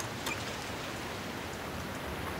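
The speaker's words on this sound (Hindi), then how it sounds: "देखे बाहर बरसात हो रही है" Steady rain falls outside, a broad even wash of patter that holds at a constant level throughout, with no voices over it.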